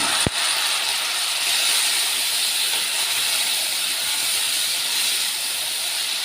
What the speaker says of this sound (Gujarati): આપણે નાખી દઈશું ટમેટાં.